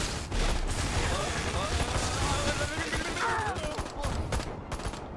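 Enemy gunfire in Destroy All Humans 2, a steady barrage of overlapping shots and bursts running throughout, loud and close, mixed with game effects and a voice talking over it.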